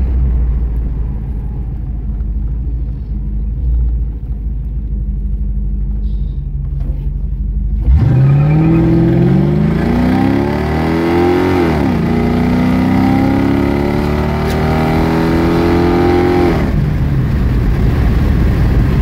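A Buick wagon engine with Dodge 392 mufflers and side pipes rumbles steadily, then revs up with a rising, throaty exhaust roar that holds and sweeps upward for several seconds before easing off.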